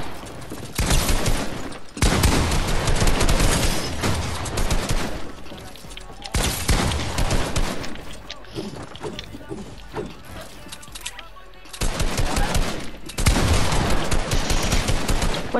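Rapid bursts of video game gunfire, sustained volleys and scattered shots that pause and resume, with voices talking over the shooting.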